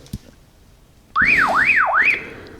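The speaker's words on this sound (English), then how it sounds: "You just push and hold that button and it will transmit your alarm signal over." Alarm signal transmitted from a Baofeng AR-152 handheld ham radio, a loud rising and falling siren sweep repeating three times after a brief click, close and alone.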